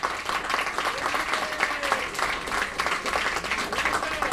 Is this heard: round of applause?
yes